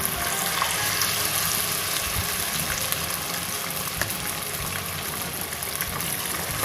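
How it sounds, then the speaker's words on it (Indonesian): Shrimp rempeyek crackers fry in hot oil, a steady dense crackling sizzle that stays even and close throughout, with no talking. "Terus digoreng sampai habis ya ibu-ibu"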